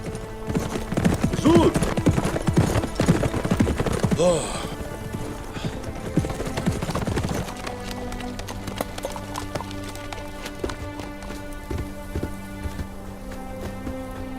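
Horses gallop with rapid clip-clopping hooves amid rain in a historical drama scene, dense and loud at first, then easing into steadier rain with scattered hoofbeats.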